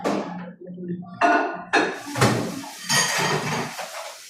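Ceramic plates clatter and knock together as they are handled and stacked, several sharp clinks in quick succession, close and moderately loud, with faint talk in the background.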